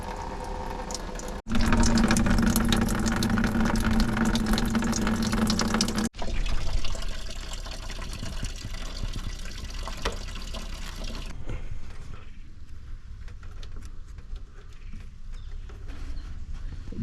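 Water flows hard through a hose while the heater core of a 1998 Jeep Wrangler is flushed, with a loud steady rush that breaks off twice and then carries on more quietly, nearby and with no one speaking.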